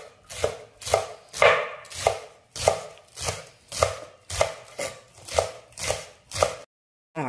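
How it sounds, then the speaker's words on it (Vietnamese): A knife chops spring onions and minces garlic and chili on a cutting board in a steady series of about eleven crisp strokes, close and loud with no talking. "Mình đi xắt hành lá và băm tỏi ớt."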